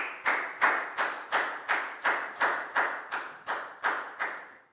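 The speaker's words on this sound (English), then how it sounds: "Big round of applause for Nadia," Sharp, evenly spaced claps ring out in a Year 4 maths classroom, about a dozen distinct strikes in a regular rhythm, fairly close and crisp rather than a blended crowd ovation.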